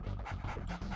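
Attack dogs in the strategy game Red Alert 2, rapid rhythmic panting and huffing breaths in quick bursts, fairly quiet and close, with no voices over them.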